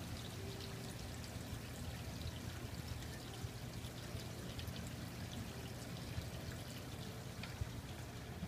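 Water trickling over a small waterfall in a DIY 100-gallon aquarium filter setup with moneywort plants, a soft continuous splashing and pouring, faint and steady with no voices.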